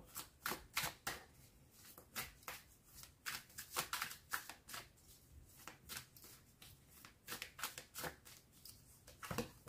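Tarot cards shuffled close up, with quiet, crisp riffling slaps repeating in an irregular, continuous rhythm and no talking.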